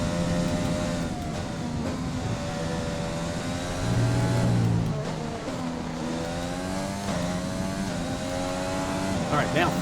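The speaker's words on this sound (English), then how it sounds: "Sometimes I just get mesmerized by the sound of the engine. Those RPMs turning." A Formula 1 car engine in the F1 2020 racing game, on the Austria circuit, revs at high RPM in a steady, continuous whine with shifting pitch through gear changes, loud and close.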